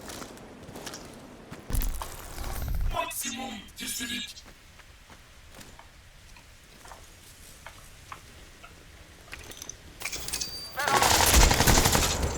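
Gunfire from the video game Crysis 2 comes in loud bursts of rapid shots near the start, around 2 to 4 seconds and again at the end, with quieter ticking stretches between and someone talking over parts of it.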